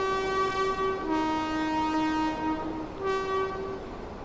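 Train running in Train Sim World 3 on a ScotRail express route, coasting across a viaduct: a steady loud cab drone with sustained harmonic tones, a pitch shift around the middle, no talk.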